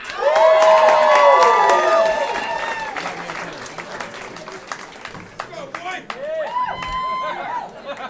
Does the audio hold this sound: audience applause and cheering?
yes